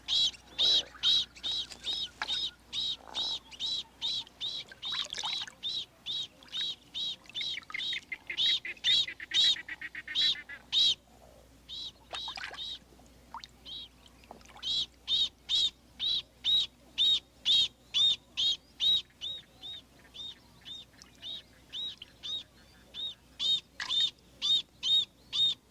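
A lotus bird calls near its nest on the water, giving long runs of sharp, evenly repeated chirps, loud and close, with brief pauses between bursts and occasional softer calls behind.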